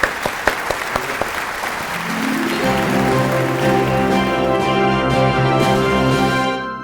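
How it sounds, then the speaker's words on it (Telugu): Applause for a child contestant at a kids' quiz show: a few sharp claps build into sustained, loud group clapping from a small audience, with music entering beneath and running to the end. "క్లాప్స్."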